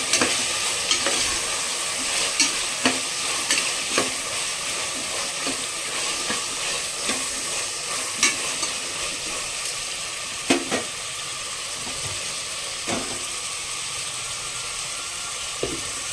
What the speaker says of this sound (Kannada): ಬಟಾಣಿ ಒಂದು ಕಪ್ಪಷ್ಟು ನೆನೆಸಿರೋದಂತೆ ಇದನ್ನು ಹಾಕೊಂಡು ಸ್ವಲ್ಪ ಫ್ರೈ ಮಾಡ್ಕೊತಾ ಇದ್ದೀನಿ